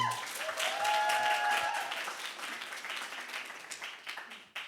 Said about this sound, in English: Another round of applause for Devin.